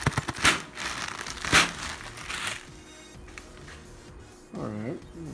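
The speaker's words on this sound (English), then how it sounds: "Take the plastic bag off." Plastic bag being pulled off a Vector robot during unboxing, loud crinkling and rustling bursts close up, then quieter handling, with a voice speaking briefly near the end.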